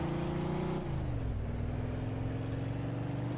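A car engine drones steadily in the Mafia 2 video game, a close, continuous hum whose pitch dips once early on before holding level.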